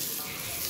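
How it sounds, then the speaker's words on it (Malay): Yellow noodles, toasted beforehand, hit a little hot oil for Chinese-style fried mee goreng, giving a brief, even sizzle up close with no voices. "Kemudian kita masukkan mi kuning yang kita telah toast tadi"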